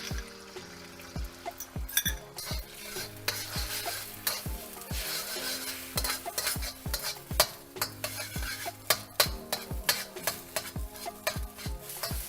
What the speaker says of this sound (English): we're gonna scramble this in our vegetable oil